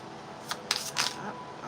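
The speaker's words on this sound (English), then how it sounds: "All right, one more shuffle." Deck of tarot-style reading cards being shuffled in a few quick riffling bursts, soft and close, with no talking.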